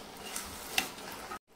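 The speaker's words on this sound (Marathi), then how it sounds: "मी इथे मीडियम साईजचा बटाटा कट करून घेतलाय, तो टाकते. मिक्स करायचं." Cut pieces of medium-size potato hit a hot pan and get stirred, giving a steady close sizzle with a light clack partway through before the sound cuts off abruptly.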